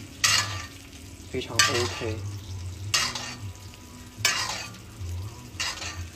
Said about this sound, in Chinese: 把它刚才用黄油烤的汁集中在这里，然后往上浇